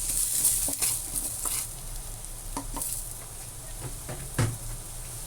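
Chicken fillet frying in a pan for chicken curry, a continuous close sizzle and crackle with scattered spatula scrapes and knocks throughout, no voices.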